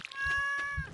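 A cat meows once in the Stardew Valley farming game, a clear, tonal game-sound meow lasting about a second with no talk over it.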